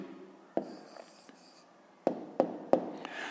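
Chalk writing a maths answer on a classroom board for a fifth-grade exercise: a few sharp taps and short scratchy strokes, close and moderately loud, with quiet pauses between.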